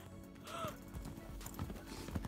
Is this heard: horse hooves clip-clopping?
yes